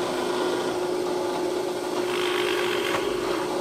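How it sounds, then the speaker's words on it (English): A drill with a countersink bit bores through a wooden board for a shooting board, guided by a fence an inch from the edge, giving a steady, close, continuous grinding rasp with a constant motor whine throughout. "I'm just going to drill through here"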